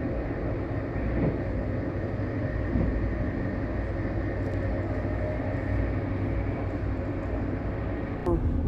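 Interior of a Dutch passenger train running toward Amersfoort: a steady, loud rumbling drone of wheels and carriage fills the whole stretch, with a brief clank near the end.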